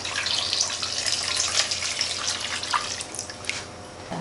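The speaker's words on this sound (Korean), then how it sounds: "물을 1리터 정도 부어주세요." Water pours steadily into a pot for Korean ginseng chicken soup, a continuous close splashing stream with no talk.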